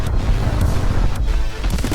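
Explosion in the video game My Friend Pedro, set in a sewer level: a dense, heavy low boom that rumbles continuously for a couple of seconds with sharp bursts on top, loud and close, with no talk.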